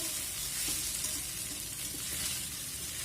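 A spatula gently stirs aloo poha, made from flattened rice and potato, in a pan. Steady, quiet sizzling fills the clip with soft scraping and no talk.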